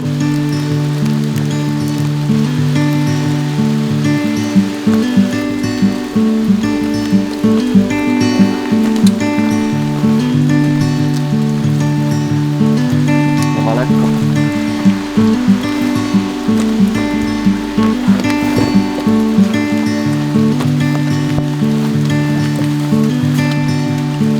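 Steady rain falling on a tent at a campsite in Italy, a dense continuous patter over a loud, constant tonal hum, with no voices.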